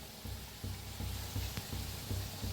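Food for vada pav sizzles and fries quietly in a pan, giving a steady soft crackle with faint rhythmic stirring or scraping.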